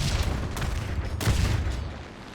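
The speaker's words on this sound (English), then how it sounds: "I love the explosion or the new explosion sounds that are in the game now." Explosions in the video game War Thunder, two deep booming blasts a moment apart with rumbling tails, heard alone and at moderate loudness.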